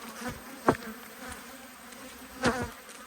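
Agitated honey bees from a queenless hive buzz in a steady hum around the opened box during an Australian hive inspection, with individual bees zipping close past in a couple of louder passes.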